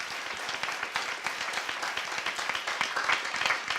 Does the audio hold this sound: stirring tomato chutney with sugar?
no